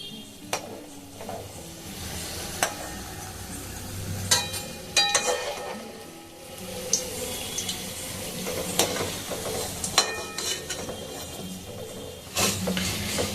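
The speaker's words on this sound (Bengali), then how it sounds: "একদমই লো ফ্লেমে ভাজা হয়" Gujiya or samosa pieces frying in oil on a low flame make a continuous gentle bubbling sizzle, broken by repeated sharp clicks and clatters of a utensil against the pan.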